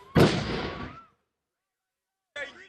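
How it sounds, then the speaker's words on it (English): A loud, sharp gunshot-like burst with a decaying echo rings out amid violent chaos in a church compound, followed by silence and then a brief return of noisy commotion. "The church compound resembling a war zone, with screams, gunshots, and sounds of shattering glass echoing through the air."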